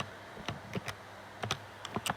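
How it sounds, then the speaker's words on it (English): Keys pressed on a calculator while working out simple interest: a quiet, close series of light plastic clicks in uneven small bursts, with no voices. "don't forget the percentage when you're typing in the calculator"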